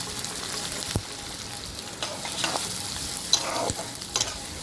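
Onions and green chilies fry in hot oil left over from frying eggs, hissing steadily up close, broken by a few sharp spatula scrapes and stirs against the pan.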